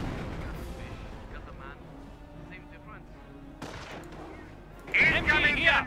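A mortar barrage lands at close range during a Company of Heroes match: several heavy thumping impacts, the loudest near the end, under a commentator talking over the battle.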